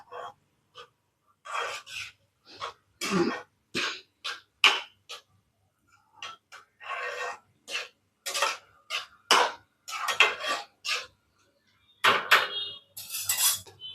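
Intermittent metallic scraping and clinking of a spoon against a pot of green gram gravy, in short irregular bursts with brief pauses, close up and fairly quiet, no talking.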